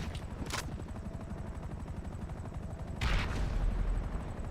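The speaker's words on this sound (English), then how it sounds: "Grenade launcher." Grenade launcher fire in GTA V Online, a steady rumbling barrage of blasts and gunfire with two sharp bright bursts, one early and a louder heavier one near the end.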